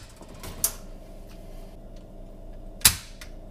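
The trigger of a JTS M12AK shotgun is pulled on a Lyman digital trigger gauge. The two-stage trigger breaks with two sharp, close metallic snaps about two seconds apart over faint handling noise.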